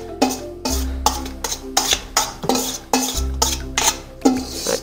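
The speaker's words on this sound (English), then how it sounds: "I'm just gonna dump this into my bigger bowl real quick so that I can give it another quick stir" Shredded cabbage for sauerkraut stirred in a large bowl, with repeated loud scraping clatters of a utensil against the bowl in an uneven rhythm, close up and without talk.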